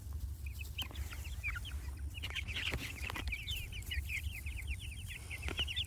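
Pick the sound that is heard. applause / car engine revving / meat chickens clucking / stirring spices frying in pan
meat chickens clucking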